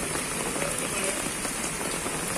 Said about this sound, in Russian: Только пару минут идет дождь.